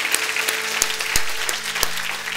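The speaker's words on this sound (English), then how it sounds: "Give God a great big round of applause." A church congregation gives a round of applause for God after a prayer: scattered clapping with a few sharp, loud individual claps standing out over a low sustained hum.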